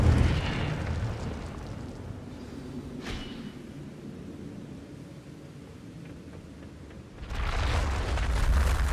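Incendio fire spells are cast in Hogwarts Legacy: a loud fiery whoosh at the start, a brief burst midway, then a heavy roaring blast near the end over a low rumbling background.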